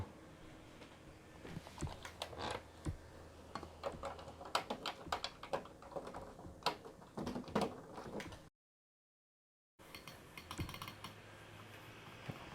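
Keys clacking on an iMac G3 computer keyboard, a quiet, uneven run of close plastic taps that breaks into a brief silence before resuming.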